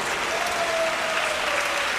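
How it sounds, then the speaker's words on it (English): A crowd at a table tennis match breaks into steady applause, a dense, continuous wash of clapping that stays loud and even throughout. "Applause from the crowd even in the replay."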